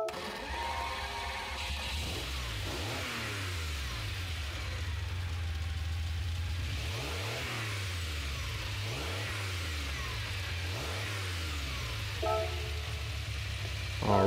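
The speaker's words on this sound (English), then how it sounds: "we'll listen to the startup sound" A 1976 Ferrari 512 BB engine in the game Gran Turismo 7 rumbles steadily at idle, with a few short revs rising and falling over the low, continuous hum.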